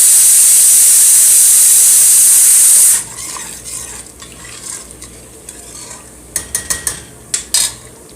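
Masala with yogurt roasting in a pot for beef nihari: a loud hissing sizzle at first, then quieter frying with sharp metal spoon scrapes and clinks against the pot as it is stirred.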